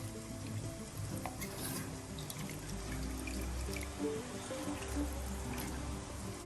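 Fish curry of aavoli (pomfret) being stirred in a pan, a steady scraping and sizzling over a continuous low bubbling hiss, close and moderately loud, with no voices.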